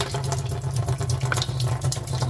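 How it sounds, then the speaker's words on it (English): Bottled water pours steadily into a bucket for homemade wine, a continuous close splashing and gurgling stream with no voices. "Put a little bit of water in there."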